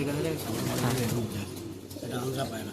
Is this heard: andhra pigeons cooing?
yes